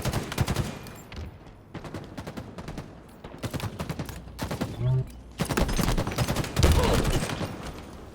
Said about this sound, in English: It was a good grenade that time, but Jordinary not able to pick up the kill.